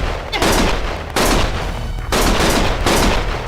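Loud, dense gunfire fills a Lost Judgment shootout, coming in long sustained bursts broken by two brief lulls, close and harsh with no voices over it.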